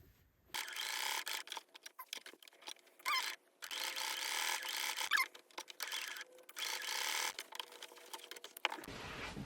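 A sewing machine stitches a pet pouch onto a hoodie, its quiet rapid mechanical whir running in stop-and-start bursts with short pauses between runs.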